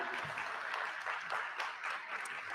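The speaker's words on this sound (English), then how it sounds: "Let's have a round of applause to show appreciation to the students who are here with us tonight" Gala audience applauding students at an evening event, a steady wash of many hands clapping at moderate level, somewhat distant, continuous for a few seconds with no speech.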